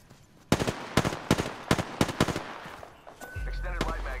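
Rapid bursts of automatic gunfire from a shooter video game, aimed at a dragon, crack out in quick uneven volleys, then give way to a steady low rumble and a rising whine near the end.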